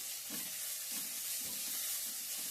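Masala with ginger-garlic paste fries in oil for a mutton curry, a steady broadband sizzle with soft, irregular stirring scrapes of a spoon in the pan, close and moderately quiet, no voices.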